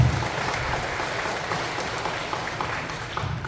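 Audience applause at a residents' briefing on urban redevelopment in Korea, a steady, moderately loud wash of clapping welcoming a presenter, with no voices over it.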